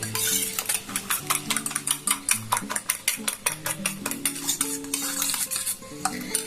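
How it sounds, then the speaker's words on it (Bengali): Three eggs are beaten with a fork in a bowl, giving rapid rhythmic clinking and tapping strokes close up, with a faint tonal background running beneath. "একটা কাঁটা চামচ দিয়ে বেশ ভালো করে ফাটিয়ে নিয়েছি"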